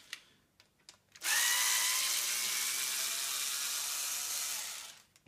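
A power drill or driver backs screws out of the body of a Harley Benton Bullet Mustang electric guitar, giving one steady, loud whirring run of about four seconds after a few faint clicks, alone with no talk.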